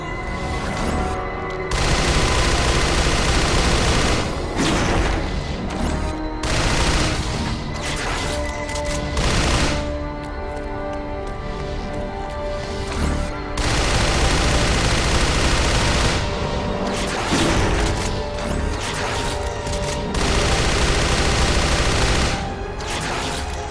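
Gunfire in Shadows of the Damned comes in loud, dense, sustained bursts broken by brief pauses, mixed with crashing impacts and booming game effects throughout, with no voices.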